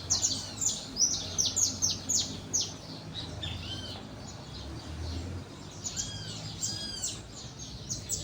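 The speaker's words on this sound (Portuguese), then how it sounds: "Olha os passarinhos, escuta os passarinhos" Small birds chirp and tweet outdoors in quick repeated bursts, fairly close and clear, over a low steady rumble of background noise, with no voices.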